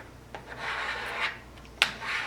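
A squeegee rubs down Siser pressure-sensitive vinyl in a few soft, scraping strokes with brief sharper squeaks, close and fairly quiet, with no talking.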